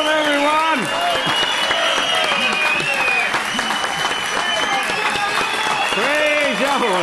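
Lively audience applause fills a church Sabbath service hall, steady and loud throughout, with cheering voices rising over the clapping.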